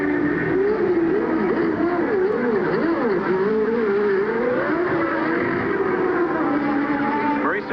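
A 1989 March Formula One car runs in the pit lane, its high engine note rising and falling continuously and loudly beneath race commentary.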